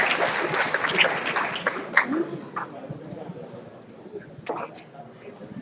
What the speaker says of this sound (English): Can we give a round of applause for judging all of you guys?